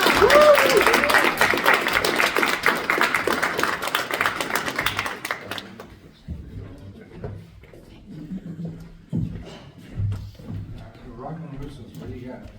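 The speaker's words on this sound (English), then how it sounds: "Let's give a big hand for applause" Small studio audience applauding after a live performance at a music studio, brisk clapping that stops about halfway, followed by scattered handling noises and people talking.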